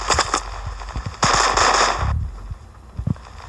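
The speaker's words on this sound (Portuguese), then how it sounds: "Sai do tiroteio." Gunfire in the shooter game Stanford 2 comes as a quick series of sharp cracking shots, followed by a dense burst and a few scattered pops, loud and close.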